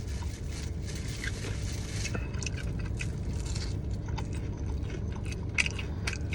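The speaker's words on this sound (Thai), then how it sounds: "ทำไมกินข้าวในรถมันอร่อย" Someone chews food while eating a meal inside a car, giving steady crunching and squishing mouth sounds up close against a constant low background rumble, with no talk.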